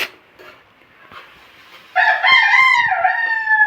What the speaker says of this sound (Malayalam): നമുക്ക് ഒരേ ഒരു കോഴി നിൽപ്പുണ്ട്. അതിൻ്റെ കൂക്കലാണ് ഇതിൽ കേൾക്കുന്നത്.